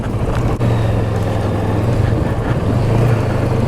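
Kawasaki Versys 650 motorcycle riding over thick gravel, a steady engine drone and low rumble with wind buffeting, loud and close, with one brief knock early on.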